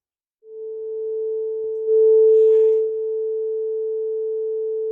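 A steady pure sine tone from a tone generator, picked up by a DEWESoft data acquisition setup, holds one pitch for several seconds, swelling louder midway, with faint background hum.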